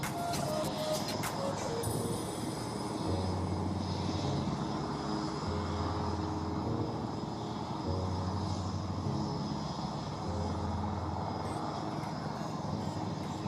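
A Netra airborne early warning aircraft flying at the Aero India air show, a steady, broad engine roar that holds throughout, with a low droning hum that rises and falls over continuous crowd and outdoor noise.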